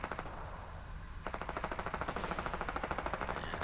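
Rapid SMG bursts in a video game crackle out in fast, evenly spaced shots, a brief pause then a longer sustained string of automatic fire, fairly loud and close with no talk.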